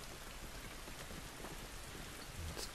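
Steady rain falls in The Last of Us video game, a dense even patter of drops on surfaces throughout, with no talking.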